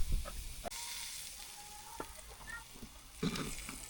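A ribeye steak sizzles in a hot pan after being flipped, a soft steady hiss with a few sharp clicks and scrapes, faint and close, with no talk over it.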